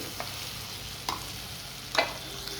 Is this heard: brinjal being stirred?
yes